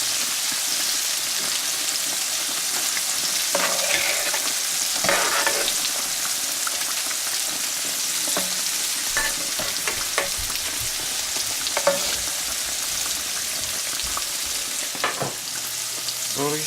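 Cajun catfish fillets and shrimp frying in oil, a steady dense sizzle and crackle running throughout with scattered sharper pops and faint clinks, fairly close and with no talking.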